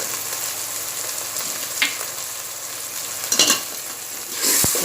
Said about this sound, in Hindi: अब मैं इस सब मसालों को थोड़ा टाइम भूनूंगी